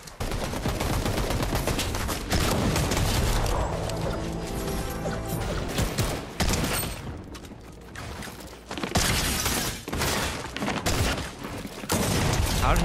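Fortnite gunshots ring out in rapid, loud bursts mixed with mechanical clicks and reload sounds, with brief lulls between volleys and faint talk underneath.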